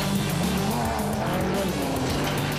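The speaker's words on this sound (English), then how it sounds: "the hills are alive with the sound of revved-up engines running flat out as dozens of rally cars tear through the countryside" Dozens of rally cars tear through the mid-Wales countryside at full throttle, their engines a loud, unbroken roar with tyre noise running throughout.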